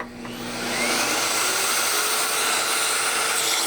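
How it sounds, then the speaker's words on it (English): A central vacuum system running with its hose plugged into the front suction port, a steady loud motor whoosh and airflow roar that ramps up in the first second, then holds constant with no talking. "with the hose you can make the vacuum turn on"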